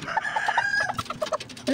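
A hen near her eggs gives repeated short clucks and a crowing-like cry, close and fairly loud, with a person's voice briefly mixed in.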